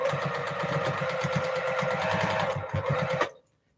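A home sewing machine stitching a seam against a quarter-inch seam allowance guide, a fast, even mechanical whir close by that runs steadily and then stops abruptly near the end.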